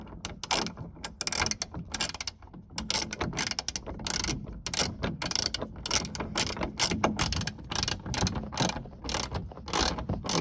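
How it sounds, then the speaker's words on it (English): Ratchet wrench tightening the front bolts of a late-1980s to 1996 Corvette roof panel, with close, loud, fast ratcheting clicks in repeated strokes and brief pauses between them. "First things first, you got to get these front bolts started."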